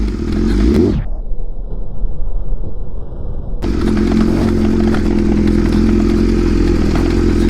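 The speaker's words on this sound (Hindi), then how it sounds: "थोड़ा सा हैंडल ढीला हो गया, थोड़ा सा आवाज़ कर रहा है।" A motorcycle engine runs steadily and loudly, with clattering and rattling from a loosened handlebar layered over the drone, briefly dropping to a muffled rumble before roaring back.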